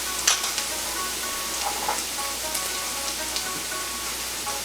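Blanched bok choy greens hitting a hot pan for Chinese-style frying, a soft steady crackling sizzle with faint pops and light stirring, fairly quiet throughout.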